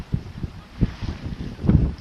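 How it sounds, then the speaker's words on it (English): Strong wind buffeting at the Glenelg shore while fishing, gusting in uneven low bursts with rough blasts against the microphone, loudest near the end, no voices. "It's hectic wind out here"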